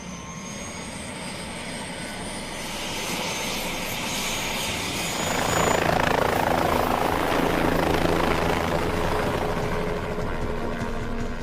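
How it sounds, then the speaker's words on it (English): A helicopter flying on an aerial filming run over a volcano gives a continuous, close rotor and engine roar that swells louder about halfway through and holds steady, with no talking. "you're encased in this piece of metal of a helicopter"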